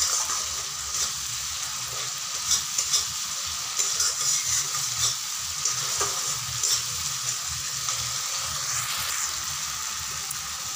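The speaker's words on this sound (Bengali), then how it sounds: "এভাবে নাড়া দিয়ে দিয়ে কষাতে হবে" Masala for an egg curry sizzles steadily in hot oil while a spoon stirs it now and then, a continuous close frying hiss with soft scraping taps throughout and no voices.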